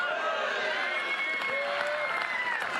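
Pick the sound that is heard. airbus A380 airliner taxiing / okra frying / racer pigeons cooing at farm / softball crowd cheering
softball crowd cheering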